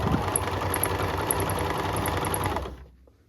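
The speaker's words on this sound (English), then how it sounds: "out comes the sewing machine" A sewing machine stitches a sewing caddy, running in a steady mechanical whir with fine rapid ticking, then stopping abruptly near the end, leaving quiet.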